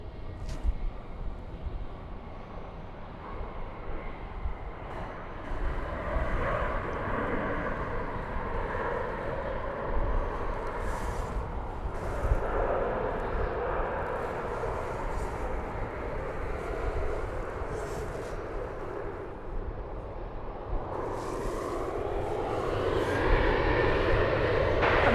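A jet taking off from runway 36 right at DFW Airport gives a steady, continuous roar heard from a distance, swelling slightly louder toward the end with no talk over it.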